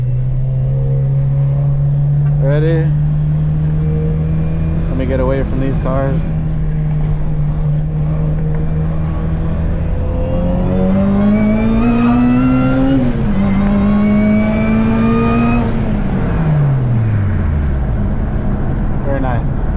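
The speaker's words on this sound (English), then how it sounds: "So I got the supercharged RSX that we never drive," A supercharged Acura RSX engine idles steadily, then revs up in rising pulls and drops back down. It is loud and close, with a person speaking briefly early on.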